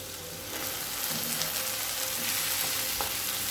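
Softened onions with two small tomatoes frying in a pan, a steady close sizzle with stirring scrapes, quiet at first and building after half a second, with no talk.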